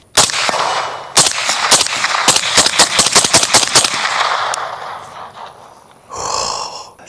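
Suppressed Gorilla Firearms GF-10 rifle firing 100-grain 6.5 Creedmoor rounds, a rapid string of a dozen or so loud, sharp reports spaced unevenly over several seconds, followed by a brief hiss of noise.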